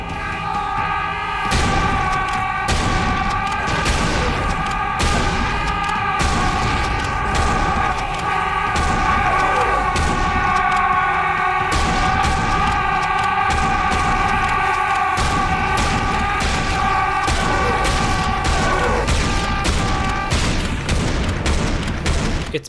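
A pump-action shotgun in the Serious Sam video game fires in rapid, loud repeated blasts, each a sharp boom, over steady game music throughout.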